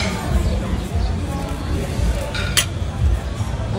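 Cutlery clinks against a plate as leftover food is served onto it, with light scraping and tapping under ongoing talk.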